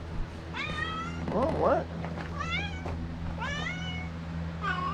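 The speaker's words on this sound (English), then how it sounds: "Oh, meow! Oh, hi, kitty!" A cat in a sawmill shed gives repeated rising meows, loud and close, interspersed with a person's voice talking to it.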